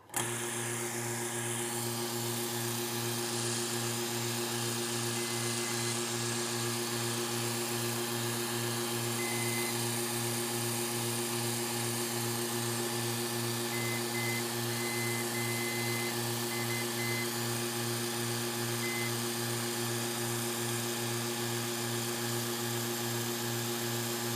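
A rebuilt Gast pump motor runs steadily on a bench power check, giving a continuous, even electric hum with a droning low buzz and no changes in level from start to finish.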